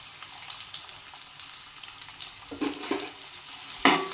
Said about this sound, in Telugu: ఆయిల్ కొంచెం వేడైన తర్వాత ఇదిగోండి, ఆయిల్ వేడైంది. ఇదిగోండి, ముందుగానే తరిగి పెట్టుకున్న ఉల్లిపాయలు, ఆనియన్,